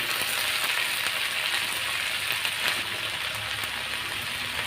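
White mustard greens sautéing in a frying pan give a loud, steady, close hiss of sizzling oil that holds evenly all the way through, with no talking.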